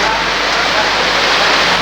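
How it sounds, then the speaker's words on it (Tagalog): Rain falls at Davao Airport as a steady, loud, dense hiss that stays even throughout, with no voices and no separate drops standing out. "inabutan naman tayo ng ulan"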